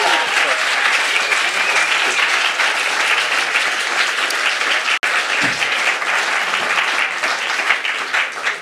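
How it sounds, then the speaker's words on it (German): Audience applause at a science slam in Freiburg, a dense, steady clatter of many hands clapping throughout, close and loud, with a brief dropout midway and no talk over it. "Ein Applaus für den Ben."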